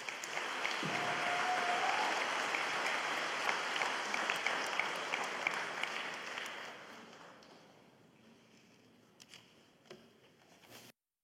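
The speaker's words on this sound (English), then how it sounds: "let's give them a quick round of applause" Audience applause at an evening school event, a broad steady wash of clapping filling the room for several seconds before thinning out and fading to a few scattered claps.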